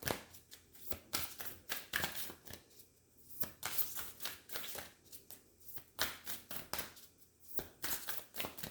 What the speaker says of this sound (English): I'm gonna get a couple of these cards here from the Rose Oracles.